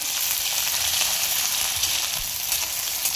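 Crushed coriander and chilli paste frying in hot oil for a curry leaf and tomato chutney, a steady, close, bright sizzle that holds evenly throughout with no talking.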